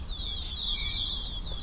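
A bird chirps loudly and close by, a run of rapid high twittering notes repeating over and over in a continuous trill against faint background hum.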